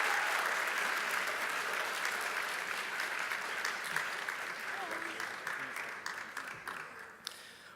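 An audience at a speaking competition claps loudly and continuously, a dense wash of applause that slowly thins toward the end, with a voice briefly audible underneath.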